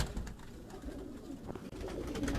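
A pigeon on a rooftop coos softly and faintly against steady background noise, its low murmurs barely rising above the ambient hum.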